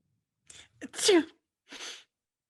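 A single close sneeze with a sharp intake of breath before it, followed by a short breathy exhale.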